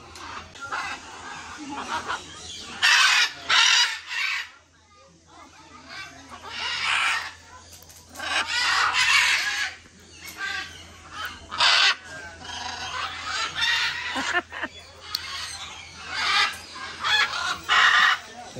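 Chickens at Parrot Mountain and Gardens, a bird park in Pigeon Forge, Tennessee, cluck and squawk in repeated bursts close by, with an occasional crow rising over a steady low hum.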